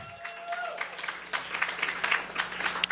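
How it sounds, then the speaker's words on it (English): Audience at a comedy night claps and cheers, a patchy burst of applause building over a few seconds, with scattered whoops and crowd noise around a low hum. "Round of applause."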